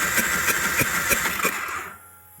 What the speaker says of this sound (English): You can hear it coming through the intake, so that's normally a stuck valve